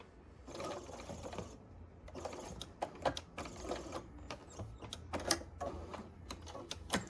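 Sewing machine running in repeated bursts as it stitches quilt patch squares for a glorified flower patch quilt, a steady mechanical whir with short pauses between seams, close and clear.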